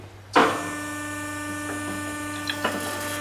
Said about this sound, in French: Thomas, le système d'équerrage pour éviter évidemment le basculement des bois de l'autre côté de la scie